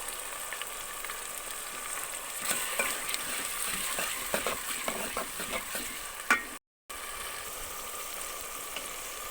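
Steady sizzling of spices, coriander and ginger-garlic paste frying in a pan for moong dal, with scraping and clinking of a spoon stirring through it, fairly close; a brief gap near the end.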